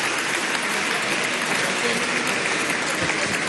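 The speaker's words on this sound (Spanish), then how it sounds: "Un aplauso a José Salamán Khan." An audience applauds at an official event in Venezuela, with steady, dense clapping from a large crowd that continues without a break.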